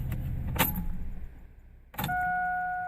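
2001 Chevy Blazer switched off and restarted, with a click and jangle of keys, a short hush, then another key turn and a steady whine as it powers back on.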